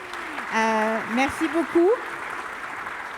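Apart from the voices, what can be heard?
audience applause after a conference talk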